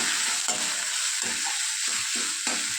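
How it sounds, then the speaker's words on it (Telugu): Ginger garlic paste with a little turmeric frying in hot oil for a cabbage tomato curry, a dense continuous close sizzle with several soft stirring scrapes spaced through it, and no voices. "అల్లం వెల్లుల్లి పేస్ట్ పచ్చివాసన పోయేంత వరకు వేయించుకోవాలి"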